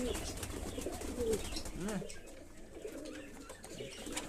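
Kaldoma pigeons kept by a hobbyist coo in soft, repeated low calls through a fairly quiet afternoon feeding, with someone speaking nearby at times.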